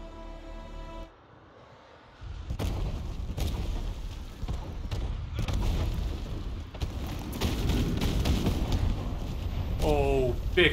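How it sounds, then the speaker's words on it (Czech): Fireworks in the game House of Ashes thud and boom in a run of deep, rumbling blasts after a brief quiet stretch. Crackling bursts layer over a continuous roar. "Pěkný ohňostroj."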